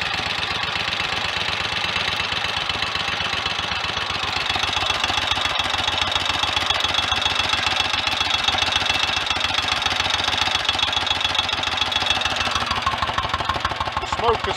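Rebuilt Royal Enfield 1000 cc Model K engine running steadily, a continuous close mechanical chug with a fast regular beat and clattering valve noise, holding an even level throughout.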